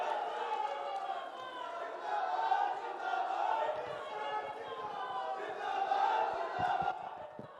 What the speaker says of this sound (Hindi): जोरदार तालियों से माननीय गृह और सहकारिता मंत्री का स्वागत करेंगे